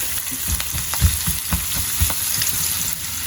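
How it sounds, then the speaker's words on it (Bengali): Onions frying in a pan, continuous sizzling with soft rhythmic scraping and stirring knocks every half second or so, close and fairly loud with no voices. "পেঁয়াজ ভাজা হতে আসলে বেশ অনেক সময় লাগে"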